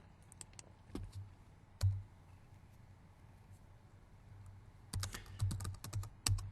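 Project start and end dates typed on a computer keyboard, with two short bursts of close, crisp keystrokes separated by a quiet pause and a faint low hum underneath.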